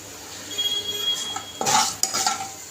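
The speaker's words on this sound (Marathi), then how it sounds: "आता ते छान तेलातून परतून घेऊया" Black peas sautéing in hot oil as a utensil stirs them, producing soft sizzling with scraping and clinking against the pot, close up and fairly loud.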